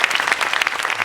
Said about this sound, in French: Allez, on peut applaudir bien fort.